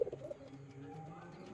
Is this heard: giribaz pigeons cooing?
yes